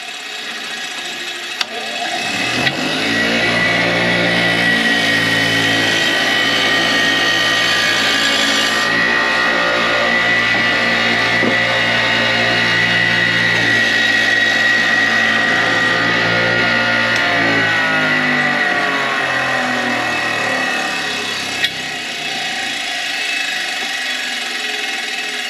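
A power tool fitted with a wire brush runs steadily and loudly for about twenty seconds on a welding project at an off-grid homestead, starting and stopping abruptly, with no talk over it.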